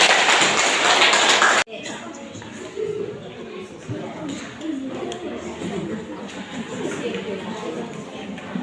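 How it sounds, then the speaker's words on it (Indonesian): A school class claps hands in a loud burst that cuts off abruptly, followed by quieter room noise and children's chatter. "berikan tepuk tangan dulu"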